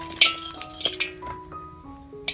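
A container of homemade lemon pickle mixed with garlic and ginger is shaken. Bright glassy clinks and knocks come close by in an irregular series, over faint steady tones.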